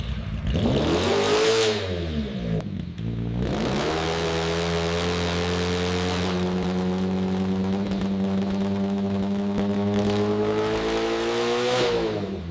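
A Harley-Davidson motorcycle engine on a factory dyno revs up and down repeatedly, running through the gears, pitch climbing through several sweeps with brief drops between, loud and close, a sustained mechanical roar.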